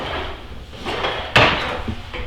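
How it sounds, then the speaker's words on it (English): A workbench drawer slides open in a woodworking shop, making a sharp wooden clunk and rattle near the middle, with softer shuffling and handling noises around it and no talking. "Let me get into the right drawer."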